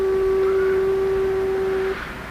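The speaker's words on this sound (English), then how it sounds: "far strum of foghorns, signals dispersed in veils" A foghorn sounds one long, steady, loud low blast that holds for about two seconds and then cuts off, leaving a soft background hiss.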